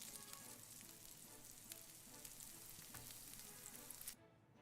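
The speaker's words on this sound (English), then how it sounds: "This is burger sizzling." A burger sizzles and crackles steadily in a hot pan, a dense continuous fry with scattered sharp pops, fairly close, until it cuts off abruptly near the end.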